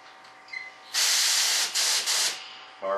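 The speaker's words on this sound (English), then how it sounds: "Love this compressor on a hose reel." A compressor hose on a hose reel lets out a loud, close hiss of air lasting about a second and a half, breaking into a few short spurts before it stops.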